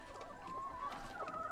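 Chickens cluck softly in a film scene, a low, steady murmur of several hens at a moderate distance with no voices over them.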